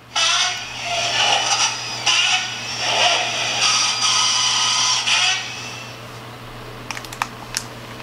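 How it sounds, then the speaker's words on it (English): Power drill at a construction site, reproduced by a children's sound book: a steady high whirring buzz for about five seconds with slight surges, then it cuts off, followed by a few faint clicks. "And the tools like the drill."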